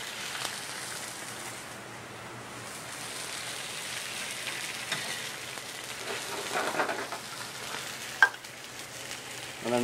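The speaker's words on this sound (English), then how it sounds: "And deglazing the pan. Reduce the wine a little bit." Cabernet Sauvignon sizzles steadily as it deglazes a hot pan, a continuous crackling hiss that holds through the whole stretch, with one sharp clink near the end.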